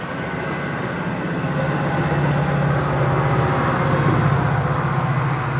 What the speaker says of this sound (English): So that train we just saw is the Metro train.